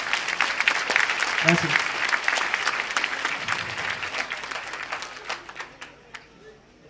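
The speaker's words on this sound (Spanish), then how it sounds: "Otro aplauso, por favor, para el compañero." An audience at a community gathering between Mexicali Resiste and Cuetzalan, Puebla breaks into sustained applause, dense and loud at first, then thinning into scattered claps as it fades. A voice briefly speaks over it.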